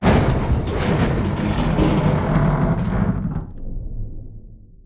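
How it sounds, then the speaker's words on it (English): A loud, dense rumble of groaning, grinding metal from a crashing spaceship shaking apart, with rattling debris, building then thinning out toward the end, no voices. "I've got some groaning metal sounds, and this is meant to be just the sound of the ship sort of shaking apart"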